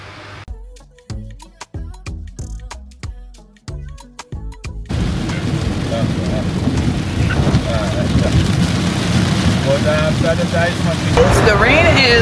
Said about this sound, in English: The rain is pouring down in Kingston